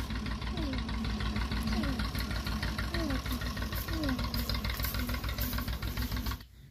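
A tractor engine runs steadily at low revs, chugging with a dense rhythmic knock as it crawls along slowly with a plough rig behind it, loud and close, then cuts off abruptly at the end.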